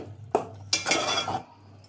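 A metal lid clanks onto a cooking pot of chicken kabsa: a short knock, then a louder ringing clatter as it settles, close by with a quiet kitchen after.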